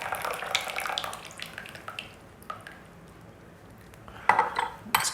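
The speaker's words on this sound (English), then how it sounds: "Get that water in there." Hot water poured over raw 2011 Yunnan pu-erh tea leaves for a third steep, with a faint splashing trickle and clinks of teaware, brief sharp clatters near the end.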